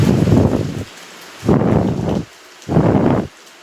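Heavy rain driven by strong wind comes in three loud, roaring surges, each lasting under a second, with quieter hissing lulls between the gusts.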